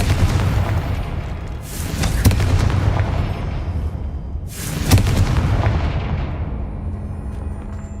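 Two heavy Confringo blasting-spell explosions in Hogwarts Legacy, each a loud, booming burst followed by a long rumbling decay, spaced a few seconds apart over a low background rumble.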